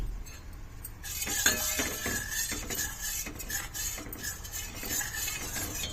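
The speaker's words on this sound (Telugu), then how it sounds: "ఉండలు కట్టకుండా ఇలా కలుపుతూ దీన్ని ఉడికించాలి" Steady scraping and clinking of a spoon stirring in a metal pot, a continuous rhythmic texture close by with no voices.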